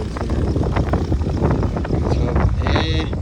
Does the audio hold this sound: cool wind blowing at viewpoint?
yes